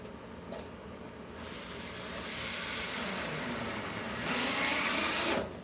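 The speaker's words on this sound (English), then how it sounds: "Y'all can hear that drill kind of bind up right there when it hit that plywood." A power drill drives 3-inch drywall screws through a deer skull plate and Bondo into plywood; a steady, loud whirring grind swells and strains over several seconds, with no talking.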